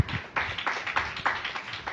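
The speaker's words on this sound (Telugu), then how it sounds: "కొట్ట చప్పట్లు గట్టిగా" A church congregation clapping hands loudly in a steady rhythm of sharp claps, roughly three to four per second, close and without talk.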